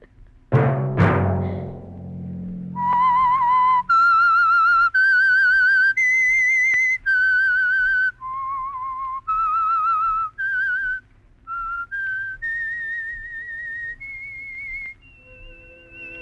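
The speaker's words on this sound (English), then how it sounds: "Let that whistle be your signal for the Signal Oil program, The Whistler" A lone human whistler performs the theme signal of The Whistler radio program, a sequence of clear sustained melodic notes following a brief low musical chord at the start.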